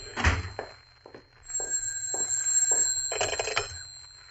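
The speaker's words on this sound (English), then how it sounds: "there's my phone" An old-fashioned telephone bell rings in a couple of trilling bursts, preceded by a few soft thumps, in a quiet room on an old radio drama.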